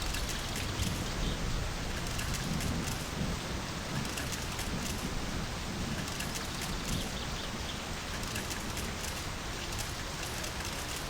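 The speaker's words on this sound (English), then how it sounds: "2 hours listening to the rain" Steady rain in the video game My Summer Car, a dense continuous hiss with low rumbling that could be distant thunder, holding an even loudness throughout with no talking.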